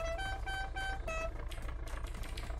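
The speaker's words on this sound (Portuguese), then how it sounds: "Nem lembro de ter apertado o botão da buzina" A vehicle horn sounds in the video game Unturned as a series of short, tonal honks over a steady engine rumble, repeated several times in close succession before the sound shifts to broader engine noise.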